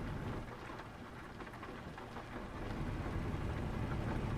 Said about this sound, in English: One thing would be nice if it stopped frickin' raining.